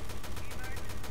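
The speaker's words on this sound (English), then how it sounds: "That is some bad shooting, but he's dead" Rapid gunfire in the Resident Evil Revelations 2 video game, a dense burst of shots pulsing throughout over game background noise.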